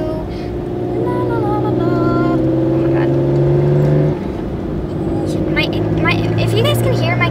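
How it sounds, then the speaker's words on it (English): A car engine running rough drones loudly and steadily inside a moving car, with a rising whine that drops off after a few seconds, then continues as a steady hum under light background voices. "Do you hear that? Because my car sounds like it's about to explode."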